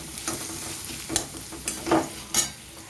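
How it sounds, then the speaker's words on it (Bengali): Sliced onions fry lightly in a pan with a continuous soft sizzle, and a spatula scrapes and stirs in several sharp, close strokes; no one speaks. "এবারে পেঁয়াজটাকে আমি হালকাভাবে ভেজে নেব একটু ব্রাউন কালার আসা অবধি"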